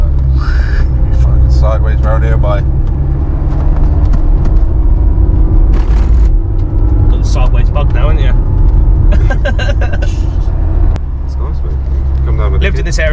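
A Honda S2000 drives along a road with a steady low rumble of engine and road noise underneath, while a person talks over it for most of the stretch.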